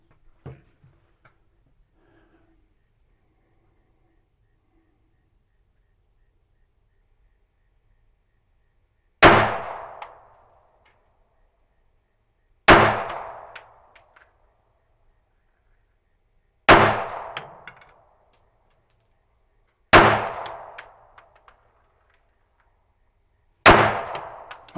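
Five sharp, loud pistol shots from a Smith & Wesson M&P Shield EZ Performance Center ring out on steel targets, each a crisp bang with a metallic clang, spaced several seconds apart after a quiet lead-in.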